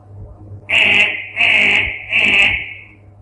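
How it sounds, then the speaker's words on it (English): An alarm clock going off with three loud electronic beeps, each about half a second long with short gaps between them, sounding alone and close over a faint low hum. "the alarm goes off and you wake up"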